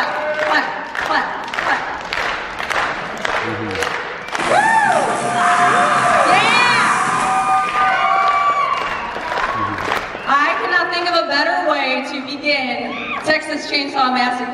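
A theater audience at the Palace Theatre claps in a steady rhythm, then breaks into loud cheering and whooping at a horror film screening event. The cheering swells midway, then steady clapping resumes with shouting voices over it.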